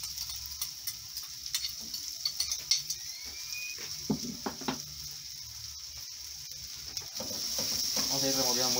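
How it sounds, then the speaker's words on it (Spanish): Potato pieces fry in hot oil with a steady sizzle while a utensil stirs them, scraping and ticking against the pan; the frying hiss swells louder near the end. "Vamos a ir removiendo muy bien para que no se nos pegue."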